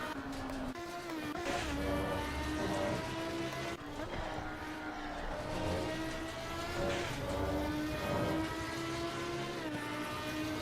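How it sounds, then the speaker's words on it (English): Reiter R-EX Lamborghini Gallardo race car engine in a VR racing game at Monza, a loud continuous high-revving whine that rises and dips through gear shifts for the whole stretch, with no talk. "It's a really nice sounding car."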